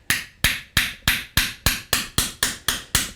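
Light hammer taps on a forged steel barbecue spoon resting flat on an anvil face, ten sharp ringing strikes in a steady, even rhythm, close and clear with no talk.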